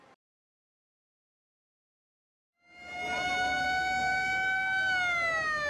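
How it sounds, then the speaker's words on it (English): An ambulance siren wails in the Yemeni city of Hodeidah as the vehicle arrives at a hospital, starting abruptly after a brief silence and holding loud and close with a steady, slightly falling tone. "An ambulance screeches up to one of the few remaining hospitals in Hodeidah."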